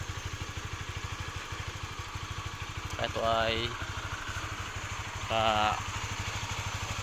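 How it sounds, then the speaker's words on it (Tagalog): A Honda CB150R motorcycle idling nearby, its steady, even engine putter running throughout while someone speaks briefly twice over it. "malaki ang makina kumpara sa CB110"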